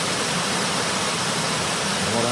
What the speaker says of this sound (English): That is Mount Airy Creek Falls right there.